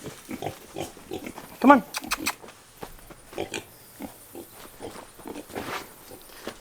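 Pigs grunt and squeal while being herded on a farm, with one sharp loud squeal standing out among scattered grunts and a voice calling to them.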